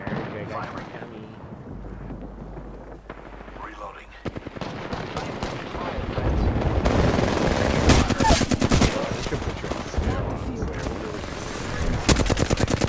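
Dense automatic gunfire and booming impacts from an Apex Legends battle during an airstrike, starting sparse and building into loud, continuous rattling volleys with heavy low rumbles, while a voice speaks intermittently underneath.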